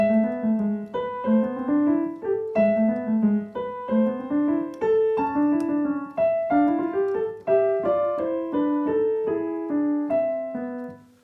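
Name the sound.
piano playing melody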